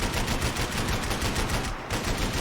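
Rapid automatic gunfire in the Max Payne 3 game rattles in a dense, continuous burst of close, loud shots with one brief gap near the end, and no voices over it.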